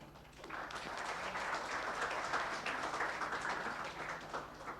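Audience at a conference panel session applauds the panelists with steady, sustained clapping that fills the room evenly from start to finish, no voices over it.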